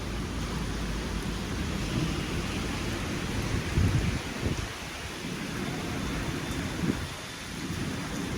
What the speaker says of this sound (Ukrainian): Вперше на Гаваях бачу такий сильний-сильний дощ.